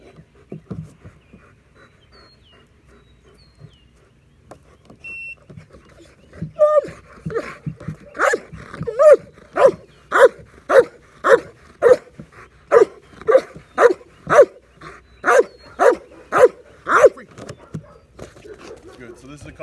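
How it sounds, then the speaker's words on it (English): A dog in bark training barks actively at a target, first some whimpers and panting, then a steady series of about fifteen loud, evenly spaced barks close by. "already offering the behavior that I like of the active barking on the target, away from me"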